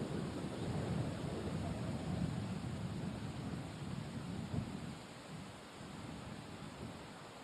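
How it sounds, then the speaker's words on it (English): Steady wind gusting across a women's professional golf course during a KLPGA tournament round, a continuous broad rushing roar with low buffeting on the microphone that eases slightly near the end. "Joanna's gonna wait an extra beat for this gust to simmer down a little bit"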